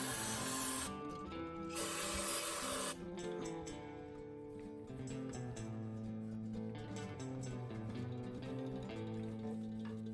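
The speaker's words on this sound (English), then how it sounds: "spray it with throttle body cleaner, and let it soak for several minutes" Throttle body cleaner sprayed onto the throttle body of a Ford Crown Victoria with a cable-controlled throttle, two sharp bursts of aerosol hiss close to the can, then background music carries on alone.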